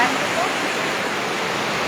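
Steady typhoon floodwater rushes past a boarding house, filling the scene with a continuous broadband roar like a strong stream flowing nearby, with no pauses.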